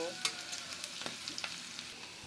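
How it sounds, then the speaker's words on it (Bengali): Whole cumin seeds fry in hot oil with onion, chili and turmeric, giving a continuous close sizzle broken by light stirring ticks and taps. "এবার এখানে কিছু আস্ত জিরা দিয়ে দেব, দিয়ে এইগুলো একটু ভালোভাবে ভেজে নেব।"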